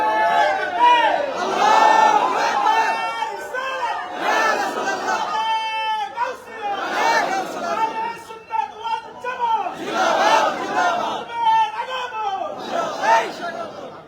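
A large crowd at a religious sermon chants a slogan in loud rhythmic call-and-response waves, repeating about four times with roaring voices swelling and falling, a leader's voice leading each round.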